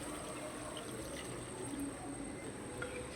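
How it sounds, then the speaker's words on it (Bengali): Water poured into a simmering rui fish curry with potatoes, mustard and poppy seed paste, a soft continuous trickling pour, fairly quiet and close. "এবার ঝোলের জন্য কিন্তু আমি জল দিয়ে দেবো"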